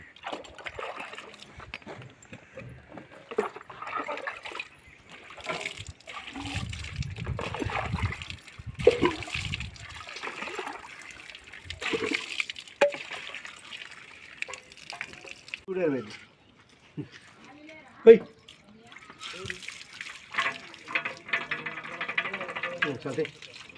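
Water from a borewell splashes and trickles into a bucket, a steady uneven gush that runs for the whole stretch with voices talking over it.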